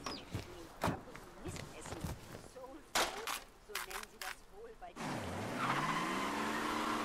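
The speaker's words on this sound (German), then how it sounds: "So, dann fahren wir hier mit der Karre mal raus." Car driving and skidding in the video game Mafia III, with sharp tire squeals and skid bursts early on, then a loud sustained engine rev and drift in the last two seconds. Some talk occurs partway through.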